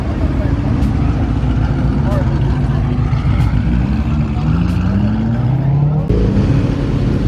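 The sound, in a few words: BMW 335i car driving past fast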